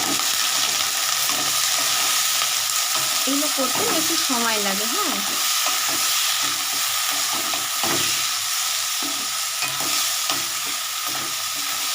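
Carrots and mixed vegetables for veg chow mein are stirred and fried in a pan, giving a steady sizzle with scraping stirs throughout while someone talks briefly in the middle.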